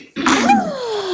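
A single sharp sneeze bursts out close by, followed by a short fading vocal tail.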